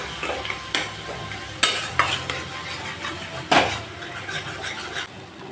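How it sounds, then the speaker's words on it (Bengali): Boi kachu taro being stir-fried with spices in a pan, a continuous close sizzle broken by repeated sharp scrapes and knocks of a spatula against the pan. "এখন আমি বই কচুটাকে ভালো করে কষিয়ে নেব মশলার সাথে।"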